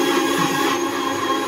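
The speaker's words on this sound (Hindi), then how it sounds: "ये देखो मिक्सी के साथ भी खेल रहा है" Steady loud whirring drone of a kitchen mixer grinder motor running continuously, close by, with no pauses.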